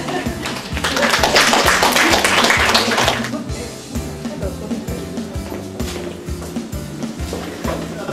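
An audience at an outdoor political community event applauds, a dense wash of clapping for about three seconds that fades out under a steady, rhythmic low musical beat that keeps going.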